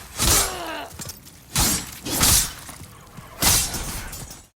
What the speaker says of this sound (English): When you kill an enemy in current patch, there's like a snap sound effect to confirm the enemy is killed.